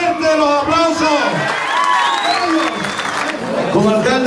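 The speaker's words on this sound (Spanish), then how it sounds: "merecen el más fuerte de los aplausos" A crowd claps and cheers loudly, with voices and whoops rising over the steady applause throughout.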